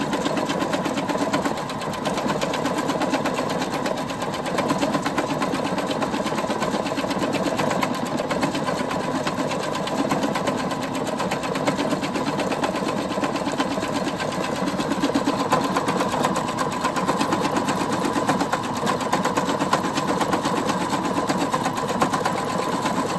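A sewing machine runs steadily stitching a homemade net, a continuous close mechanical whir with a fast even needle rhythm that never pauses, heard alone without voices.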